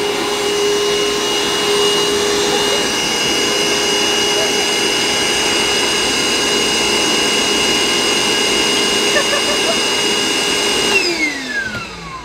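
A household vacuum cleaner runs steadily and loudly, a sustained whining drone with a strong tonal whine, used to clean up a puppy's mess indoors; it winds down near the end.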